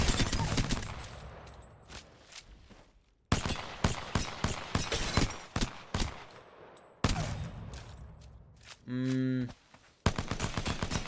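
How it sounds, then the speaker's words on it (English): P2020 pistol fire in the Apex Legends video game, aimed at a stationary training bot: rapid bursts of sharp close shots in quick succession with brief pauses, plus a short electronic tone near the end. "I'm shooting a bot standing still"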